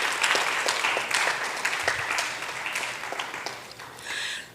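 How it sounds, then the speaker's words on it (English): Audience applause at a school graduation ceremony for the Nevis Academy Class of 2022, thanking the staff; steady, dense clapping from a crowd fills the whole stretch without letup. "So let me have you give them a round of applause for all the work they"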